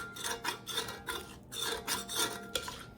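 A utensil scrapes roast beef and onions in a pan during Jamaican cooking, making rhythmic rasping strokes, roughly one every third of a second, close and moderately quiet with no talking.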